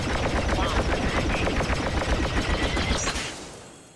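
Rapid automatic weapon fire in Star Wars Battlefront while aiming down sights, a dense fast burst of close shots lasting about three seconds before cutting off and fading.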